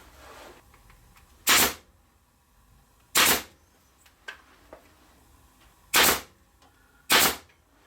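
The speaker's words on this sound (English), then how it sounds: "shoot a couple of 5/8 pin nails in there to hold it in place" A pin nailer fires 5/8-inch pin nails into wood while assembling a garden swing decoration, giving four sharp, loud pops spaced irregularly over several seconds, with faint clicks between them and no talking.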